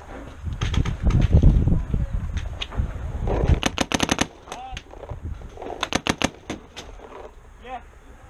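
Video game gunfire in a capture-the-flag match: repeated bursts of automatic fire and single shots, some close and sharp, others more distant, crackling in clusters across the clip while players talk tactics over team chat.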